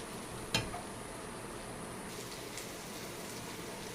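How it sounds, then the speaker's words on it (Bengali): Muri ghonto, a rice and fish-head dish, stirred in a pot once the lid comes off: a steady soft sizzle and bubbling with one sharp clink of utensil on metal, close and even. "এখন আমার মুড়ি ঘন্টটাকে আমি ঢাকনা তুলে সেটা নেড়ে চেড়ে দেবো।"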